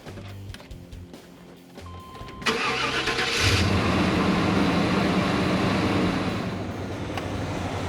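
A car's engine cranks briefly, catches and settles into a steady idle after its engine bay has been cleaned, with no belt squeal. The idle is loud, close and unbroken by speech.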